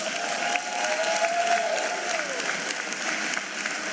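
A crowd at a matric results announcement event claps steadily for a few seconds, a dense even wash of applause with a brief faint tone sliding down midway.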